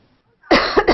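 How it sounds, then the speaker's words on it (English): A single person coughs in a newsroom studio, giving three sharp, close bursts in under half a second after near silence. "I was coughing"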